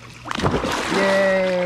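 A Welsh terrier leaps into a backyard swimming pool on a 108-degree day, making one quick close splash, followed by a bright, tonal voice calling out.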